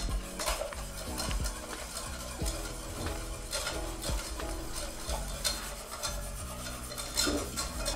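Vanilla pastry cream stirred by hand in a saucepan over the heat, a steady scraping and rubbing of the utensil against the pan bottom with soft bubbling, continuous and fairly close, no talking.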